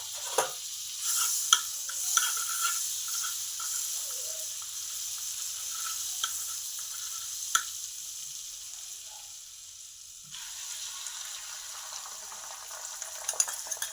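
An egg frying in butter in a pan sizzles steadily at moderate level, with occasional clicks and scrapes of a utensil; no talking.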